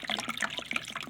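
All-purpose concentrated cleaner poured into a tub, a close, continuous gurgling stream with bubbly glugs throughout its short length.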